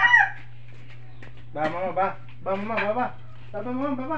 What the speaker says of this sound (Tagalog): may manok ako dito naglilimlim sa sa ating tambo